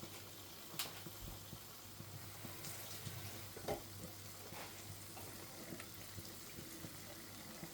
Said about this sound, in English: I will just be adding a very little water to this because it's a bit too thick for me.